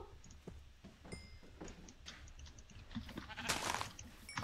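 Sheep bleat in the Minecraft video game during survival play, several short bleats spread across the moment amid scattered game clicks and effects, moderately loud and close.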